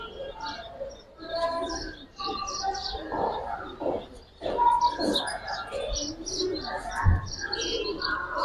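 Soft coos from Giribaz and Afsan bagha pigeons mingle with steady chirping from many birds close by at a pigeon sale, while muffled voices murmur in the background.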